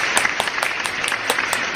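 A class claps in a round of applause, the claps coming in a quick, fairly even rhythm at close range. The claps are crisp and distinct and heard alone, without talk.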